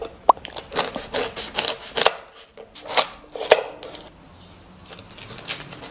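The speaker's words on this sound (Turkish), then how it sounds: "İlk önce ekmeği küçük parçalar halinde doğrayarak başlıyoruz." A knife chops stale bread into small pieces on a board in irregular, crunchy strokes, close up, with short pauses between cuts.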